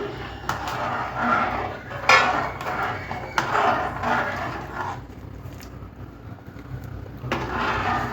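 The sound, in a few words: mixing rice upma in a pan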